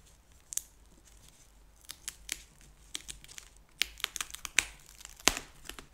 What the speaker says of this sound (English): So let's just peel off the tape there.